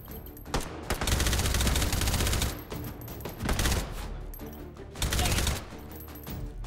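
Rapid bursts of gunfire in the VR shooter Hot Dogs, Horseshoes & Hand Grenades on a custom tower map, loud repeated volleys separated by brief pauses.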